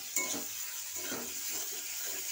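Ginger and garlic paste being stirred and fried in a pan, soft faint scraping strokes and a light sizzle repeating in a loose rhythm, quiet and close with no talk.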